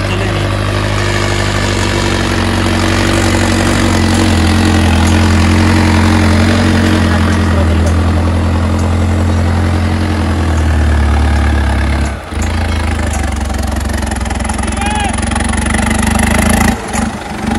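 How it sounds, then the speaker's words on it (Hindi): Two 50–60 HP tractors, an Arjun 605 Novo and a Mahindra 585 4x4, run side by side in second gear, giving a steady loud diesel drone with deep low rumble that holds throughout and dips briefly near the end. "50 HP ट्रैक्टर दूसरे आई में चल रहे हैं"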